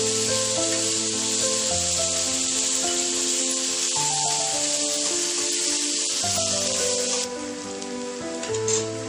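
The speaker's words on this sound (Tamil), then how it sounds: "இப்போ பெரிய வெங்காயத்தை சேர்த்துக்கோங்க. நல்லா வதக்கி விட்டுக்கோங்க." Onion fries in oil with mustard seeds and green chilies for beetroot kootu. A loud, dense, continuous sizzle plays alone beneath sustained background music, and it drops somewhat near the end.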